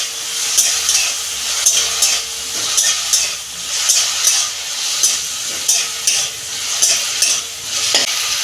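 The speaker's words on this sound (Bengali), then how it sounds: "প্রথমে আমি কড়াই তেল দিচ্ছি। পটলের বীজটা আমি একটু নেড়ে নেব 2 মিনিট।" Pointed gourd seeds are stir-fried in oil in a wok, a close sizzle punctuated by regular scraping strokes of the spatula about once a second throughout.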